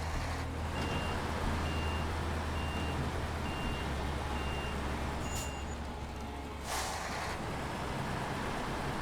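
A truck in the SnowRunner video game reverses to a loading platform with cargo, and its backup alarm repeats steady evenly spaced beeps over a loud continuous engine drone.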